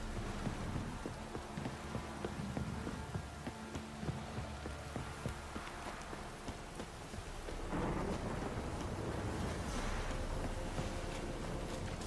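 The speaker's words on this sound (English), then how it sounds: "This downpour's a bastard," Steady heavy rain pours throughout in The Witcher 3: Wild Hunt while thunder rumbles low and long, growing louder and denser partway through.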